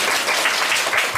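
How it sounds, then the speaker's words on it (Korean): Dense congregational applause fills a Korean church New Year thanksgiving worship service, a short steady burst of many hands clapping together at close range with no talk over it. "이 역할을 우리 대표장과 선교에서 감당한다고 할 때 박수로 영광 드리겠습니다."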